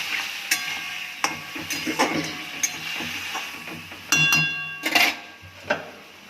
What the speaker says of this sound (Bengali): সামান্য একটু জল দিয়ে দিচ্ছি, দিয়ে ভালো করে কষে দেবো।